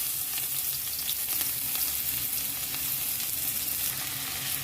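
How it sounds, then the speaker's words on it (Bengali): Onion slices frying in mustard oil in an iron kadai, giving a steady, close, dense sizzle that holds even and unbroken throughout with no voices. "আমি পেঁয়াজটা একটু ভেজে নেবো লাল করে"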